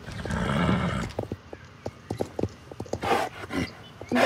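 Horse hooves from riding in the Star Stable Online game make a steady, rhythmic clip-clop close by, with a brief whinny-like burst near the end and no talking.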